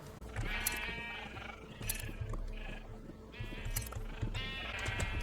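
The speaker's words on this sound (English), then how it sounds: "Let's go bug the pink sheep one more time." A pink sheep in Minecraft bleats repeatedly, about five wavering calls spread over a few seconds, clear and close with a faint steady background and no talking.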